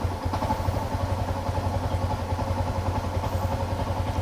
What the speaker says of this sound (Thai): เสียงเดินเบาก็จะเปลี่ยนไปนะครับ